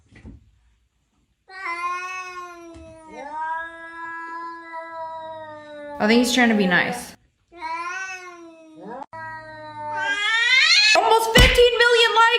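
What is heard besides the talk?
cats meowing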